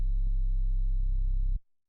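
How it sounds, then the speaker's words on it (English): A pure sine tone passes through a soft clipper and a multiband compressor, so it comes out as a steady, lightly saturated synth drone. Soft clicks sound near the start, and the tone cuts off abruptly after about a second and a half. "This is just a sine wave. It's going through a soft clipper that's just saturating it a bit,"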